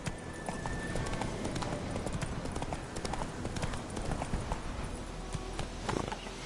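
Roach the horse gallops in The Witcher video game, with steady rhythmic hoof clip-clops thudding over a dense, noisy game soundscape throughout.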